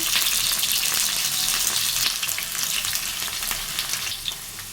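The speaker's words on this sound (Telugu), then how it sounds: "ఇప్పుడు ఆనియన్స్ అయితే కట్ చేసుకొని వేసుకోవాలి" Onions and dried red chillies frying in oil in a pan for a South Indian tomato curry, a steady close sizzle and crackle with small pops and occasional stirring, no talking.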